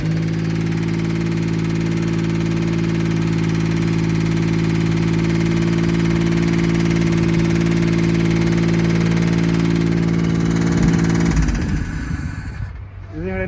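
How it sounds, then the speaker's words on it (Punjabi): A Maruti Alto engine with tappet noise idles steadily for a long stretch with a constant mechanical hum and faint ticking, then revs briefly before quieting near the end. "ਇੰਜਨ ਦਾ ਸਾਊਂਡ ਕਰ ਰਿਹਾ ਅਲੱਗ ਜੀ ਇੰਜਨ ਇੰਜਨ ਵਿੱਚੋਂ ਆਵਾਜ਼ ਆ ਜਾਂਦੀ ਆ"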